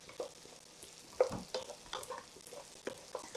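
Thinly sliced onions fry over high heat in hot oil in a pan, giving a quiet, soft sizzle broken by light stirring scrapes at an irregular pace.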